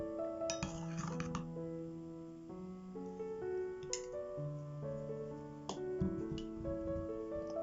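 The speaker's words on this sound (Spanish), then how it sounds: "Lo mezclamos muy bien." Metal spoon clinking and scraping against a bowl while mixing blended cooked ground rice, with repeated light taps and rings, fairly close and steady with no talking.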